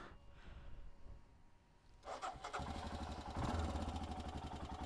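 A Royal Enfield Himalayan 411 motorcycle engine running, a low, faint rumble that swells into a louder, steady throb partway through, heard close with no voices.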